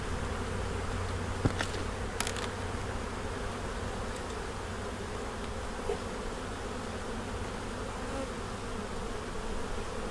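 Swarm of honeybees buzzing steadily during a springtime brood inspection and hive split, a dense continuous drone close by with a few brief knocks and clicks of frames, no voices.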